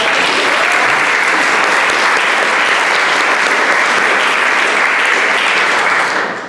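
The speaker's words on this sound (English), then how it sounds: "give them a round of applause" Sustained applause from the audience at a lead donor and CEO appreciation luncheon, a dense, steady wash of clapping that holds loud and even for several seconds before tapering at the very end.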